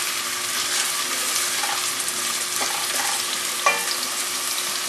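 Chopped onion sizzling in hot oil, a steady loud crackle and hiss with occasional sharper pops, continuous throughout with no talking.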